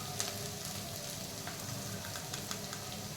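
Paneer fries in a pan for vegetable fried rice, giving a faint, steady sizzle with small crackles and pops scattered throughout.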